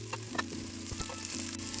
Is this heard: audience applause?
no